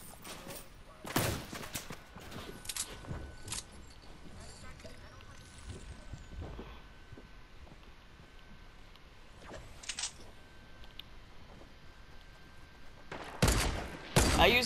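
Fortnite gunfire rings out as scattered sharp shots and short bursts, some loud and close, spread across the stretch with quieter game noise between.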